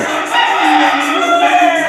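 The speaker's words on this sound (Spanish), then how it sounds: "el canto de los gallos" Loud, sustained crowing from fighting roosters nearby at dawn, several calls overlapping in a dense, continuous chorus.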